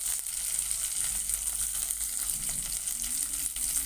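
Green chillies, curry leaves and ginger garlic paste sauté in hot oil with a steady, close sizzle and occasional soft spoon scrapes, no voices.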